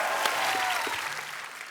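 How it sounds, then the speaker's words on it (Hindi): Loud studio audience applause on a Hindi comedy talk show, a short dense burst of clapping that fades slightly toward the end. "और एक बार जोरदार तालियां"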